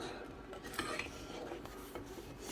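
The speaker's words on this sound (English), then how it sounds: "Gonna stir it. And stirring it until everything is fully dissolved." Sugar syrup for sponge candy being stirred in a pot, soft repeated scraping and light clinks of a utensil, quiet and close, with faint murmuring in the background.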